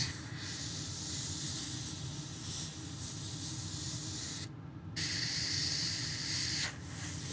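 An airbrush sprays paint onto a scale model, a steady close hiss running almost continuously with a short break in the middle and a slight drop near the end, with no talking.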